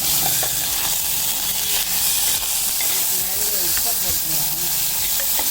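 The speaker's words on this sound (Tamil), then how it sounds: "அந்த நிமிஷம் தக்காளி கரையணும் எண்ணெயிலே ஒரு அஞ்சு நிமிஷம் வதக்கி" Tomatoes sautéing in hot oil for a drumstick leaf soup give a steady, close sizzle and hiss throughout, with occasional light stirring.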